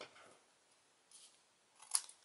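Scissors snip through paper being trimmed for a handmade Valentine's card, a couple of soft, faint cuts close by with a sharper snip near the end, otherwise quiet.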